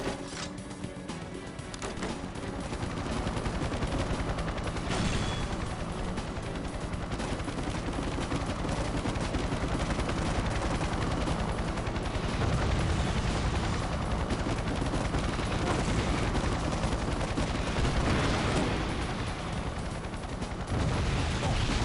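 Rapid gunfire and mechanical weapon noise from the N64 video game 007: The World Is Not Enough, dense and continuous over a steady game soundscape, with no talking.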